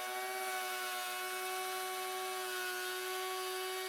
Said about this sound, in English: So the first pass with the router,